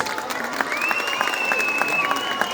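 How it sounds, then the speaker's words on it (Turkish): Applause from a school audience greets a student's second-place medal at the Turkish Wushu Championship, during a Republic Day ceremony at a primary school; dense, steady clapping with faint crowd murmur and a high tonal whine throughout. "Alkış az geldi."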